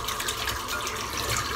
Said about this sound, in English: Just going to rinse the brush out.